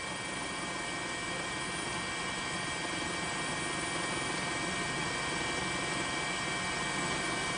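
A news helicopter flies over Sendai, Miyagi, during the 2011 tsunami, its engine and rotor forming a loud, steady, dense roar that fills the whole stretch without a break.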